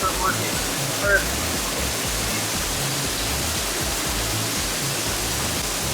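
A botanical garden waterfall pours steadily with a constant broadband rush, near and loud, and a voice briefly breaks through at the start.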